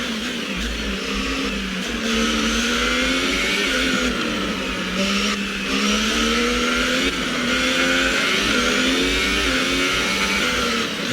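A Formula 1 car in the racing game F1 2018, practicing at the Brazil circuit, screams at high revs, its loud engine note rising and dipping through gear changes without a break.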